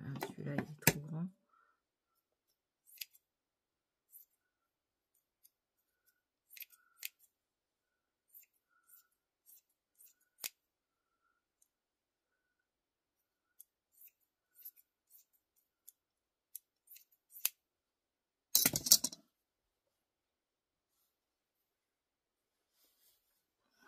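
Scissors snipping fabric for a sewn flower cushion, sparse short cuts spread across the stretch with a louder burst of cutting near the end, otherwise quiet.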